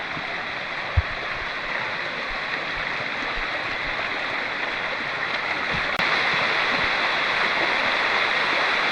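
Steady roaring rush of a waterfall on the Boalia trail in Mirsarai, a dense unbroken wash of water noise heard close and loud throughout, with no voices.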